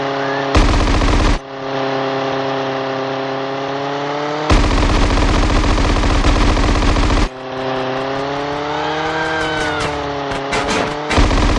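Gunfire in GTA San Andreas while weaving through traffic, long loud bursts of rapid automatic shots over a constant car engine drone, with quicker scattered shots near the end.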